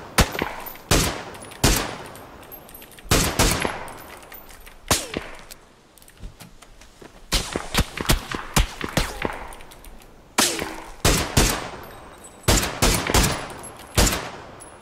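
Gunfire in PUBG rings out as sharp, loud shots in irregular bursts and single cracks, some close and some spaced apart, with brief gaps between volleys.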